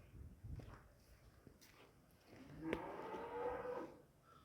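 A cow gives a single drawn-out moo midway through, fairly close but not loud, after some quiet shuffling and footstep-like knocks on a farm.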